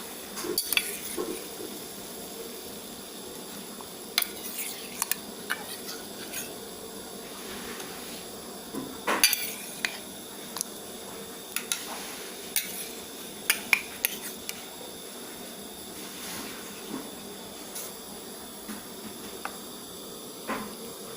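Utensils stir and clink against a metal pot while blanching squid over a steady simmering hiss, with scattered sharp knocks and scrapes throughout.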